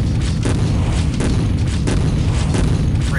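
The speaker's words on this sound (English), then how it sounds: "Here's the double-barreled shotgun." Double-barreled shotgun blasts in the shooter game Quake 3, heavy booming shots repeating roughly every half to two-thirds of a second over a dense, loud game background.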